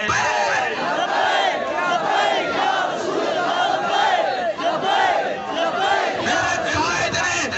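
A large crowd at a TLP political rally chants the slogan Labbaik in unison, a loud, dense roar of many voices rising and falling in repeated rhythmic waves.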